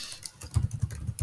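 Computer keyboard typing while coding a to-do app in React with Firebase, a short run of clustered key taps with several louder thumps, close and clear with no talk.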